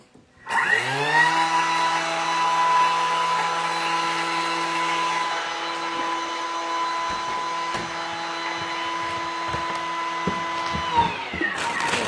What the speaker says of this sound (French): Et là, on va mixer donc 10 secondes, vitesse 10.